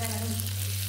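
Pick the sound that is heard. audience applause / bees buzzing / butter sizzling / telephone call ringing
butter sizzling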